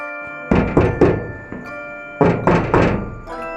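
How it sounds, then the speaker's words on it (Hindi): Knocking on a door at night inside a house: two separate sets of three firm, close, loud knocks with a short pause between them and no voices. "अचानक से कोई उसका दरवाज़ा खटखटाता है"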